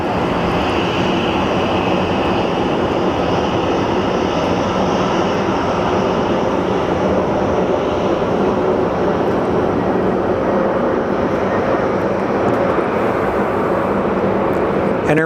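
A Frontier Airlines jet at Phoenix Sky Harbor on a rainy day gives a continuous broad engine roar with a faint whine, while someone talks over it throughout.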